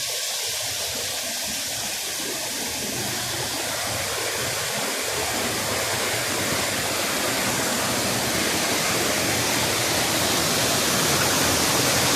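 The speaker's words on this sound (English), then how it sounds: "Look at this water dashing down" Steady, loud roar of Somerset Falls in Portland, Jamaica, water rushing down continuously with no letup, close by and filling the whole clip.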